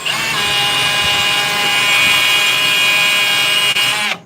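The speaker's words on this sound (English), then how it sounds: "get the drill to hold on better" A power drill in a live stripping setup whines loudly and steadily at close range for about four seconds, then cuts off at the end, with no voices.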